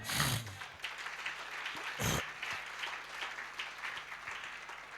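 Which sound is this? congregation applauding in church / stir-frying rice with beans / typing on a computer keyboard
congregation applauding in church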